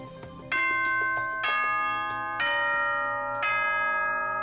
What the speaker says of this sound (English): Was that a school bell just now?